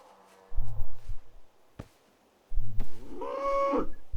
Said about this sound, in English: And over here I saw a cow, which we can also kill.